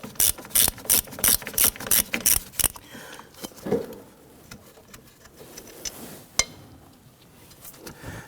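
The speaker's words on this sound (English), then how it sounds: "We're going to go ahead and finish removing the bolts on the back side, securing the wheel cylinder." A ratchet loosening the wheel cylinder bolts on the rear brake of a 2017-2020 Hyundai Elantra, a quick series of close, crisp clicking strokes followed by quieter handling noises.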